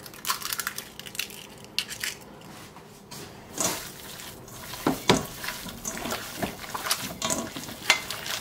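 Greek meatball mixture being worked together with a raw egg, a wet, squelching, irregular mashing close by with uneven bursts of stirring and squishing, no voices.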